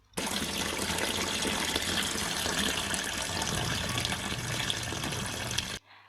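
Water runs from a tap in a steady, gushing stream for several seconds while rinsing fish, close and loud, then cuts off abruptly.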